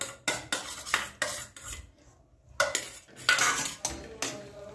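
Mashed potato is stirred into pav bhaji in a metal pan: a spatula scrapes and knocks against the pan in quick, uneven strokes, close and clear, with a short quiet pause in the middle.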